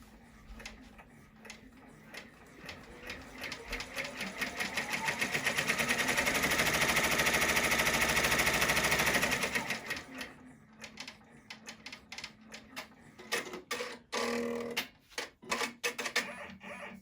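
An embroidery machine stitching the placement line for a teddy's nose, a rapid mechanical ticking that swells into a steady whir for several seconds, then stops, leaving scattered clicks and handling noises.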